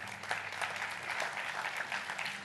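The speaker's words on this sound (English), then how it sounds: "You don't have to clap." Audience applause fills a warm, crowded hall right after a speaker is welcomed to the stage, a dense steady patter of clapping with no voices over it.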